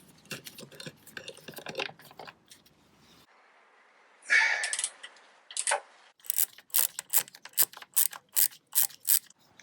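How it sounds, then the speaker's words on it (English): A hand ratchet loosens the nuts holding a panel on a Honda CB500X motorcycle, giving close bursts of rapid clicking, a short scraping rattle, then a run of separate sharp clicks. "we're going to undo the nuts here, one further around and one at the back here"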